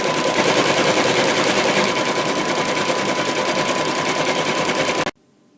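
Embroidery machine stitching a personalized design onto a blanket, a loud steady rapid needle chatter running without pause before cutting off abruptly.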